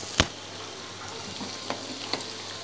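Onion pakoras, kanda bhaji, deep-fry in oil with a constant soft sizzle; a sharp utensil knock opens the moment, followed by lighter taps as the fritters are gently turned.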